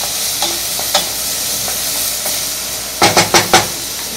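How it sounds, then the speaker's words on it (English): Garlic and onion sweating in a thin pot, a steady close hiss with light stirring clinks and a quick run of four spoon taps near the end, with no talk. "You can see our garlic in there with our onion. Starting to sweat really nicely."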